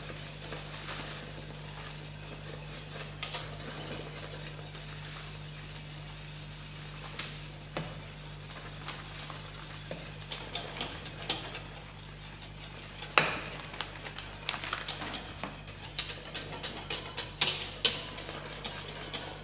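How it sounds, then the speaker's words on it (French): Flan dessert powder is stirred steadily into boiling milk in a pan. Continuous close scraping and swishing runs under a low bubbling hiss, with a few sharper clicks of the utensil against the pan. "Bien mélanger pour une bonne répartition de la poudre"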